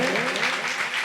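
A village audience at a Ramdhuni mandali devotional performance claps in dense, continuous applause, loud and steady throughout.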